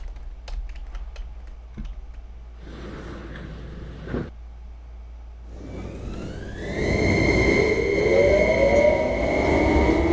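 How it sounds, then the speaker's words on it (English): Train ride in the video game Minecraft, starting with soft clicks and a low rumble, then a rising electric whine and louder rolling rail noise as the train pulls away and picks up speed, with no voices. "I'm actually going to get on the train"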